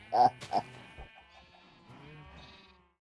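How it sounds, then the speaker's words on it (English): A cow trapped in a jar in modded Minecraft lets out a couple of short, nasal, bleating moos up close, followed by quieter murmuring and talk. "And now look, it's a cow in a jar."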